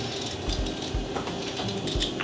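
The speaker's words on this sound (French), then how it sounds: "on coupe en morceaux" A razor-sharp knife chops vegetables into pieces on a board, a series of dull thuds roughly every half second under a steady mechanical background hum, close and without speech.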